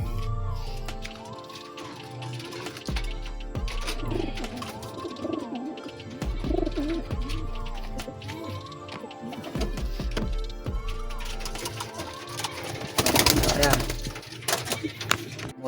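Racing pigeons coo repeatedly in a loft before basketing for a race, throaty rolling calls close by with wing flaps and clatter, while people talk.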